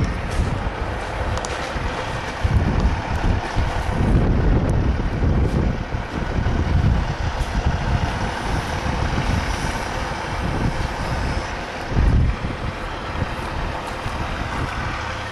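A Pacific P10 logging truck rumbles past in the Fraser Valley, a loud, heavy diesel roar that swells and surges with deep throbbing low end, close by and alone without talk.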